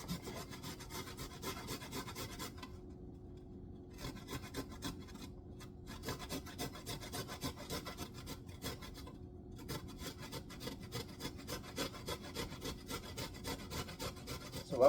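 A piece of spice is rubbed across a grater for jerk sauce, producing a close, steady scraping rasp in repeated strokes with a few short pauses, fairly faint and with no talking.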